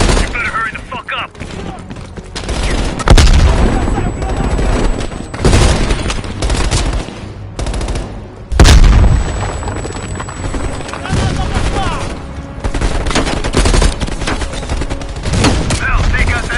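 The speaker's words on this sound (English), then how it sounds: "Heavy MG on the ridge." Heavy machine gun fire on a ridge in the Cold War shooter game Call of Duty Black Ops Cold War, loud bursts and booms in dense battle noise, with voices speaking over the combat.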